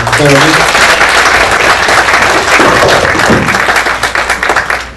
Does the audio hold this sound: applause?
yes